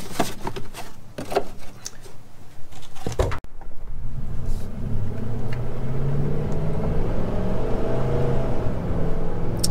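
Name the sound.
Dodge Dakota engine accelerating through gears on test drive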